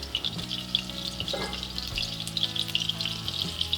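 Onions frying in butter in a pan for a minced beef curry, giving a steady close sizzle with a low continuous hum beneath and a few brief scraping stirs.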